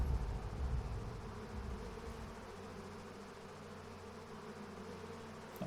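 A swarm of bees buzzes continuously in Dragon Age: Origins - Awakening, a dense, steady droning hum of many insects in flight, fairly close and unbroken, with no voices.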